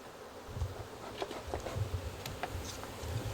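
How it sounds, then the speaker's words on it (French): A small but healthy swarm of honeybees buzzes close by, a low steady drone with brief rising hums as individual bees fly past, quiet and unaccompanied by speech. "Oh, c'est pas un gros essaim, mais c'est un bel essaim."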